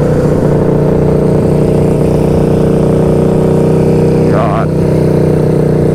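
A loud KTM Super Duke motorcycle engine drones close by, steady and heavy at idle, with someone talking over it.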